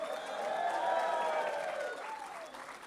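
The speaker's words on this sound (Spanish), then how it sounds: "¿Cuántos pueden gritar y aplaudir fuerte al Rey?" A church conference crowd in Peru cheering and clapping together, sustained shouts and wavering voices riding over dense applause that swells and then eases slightly.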